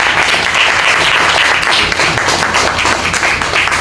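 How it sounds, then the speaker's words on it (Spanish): A Spanish-speaking church congregation gives a loud, dense round of applause to Jesus Christ during a general service, with sustained clapping from many hands filling the room. "¿Cuántos podemos darle un aplauso al Señor Jesucristo?"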